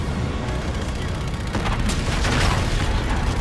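Dense, loud machine gun fire and explosive booms in Call of Duty Infinite Warfare campaign gameplay, a continuous rapid barrage with sharp bursts, with a voice talking faintly underneath.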